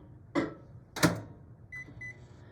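Two sharp clunks, then a short series of high electronic beeps from a microwave oven heating butter, close and fairly quiet.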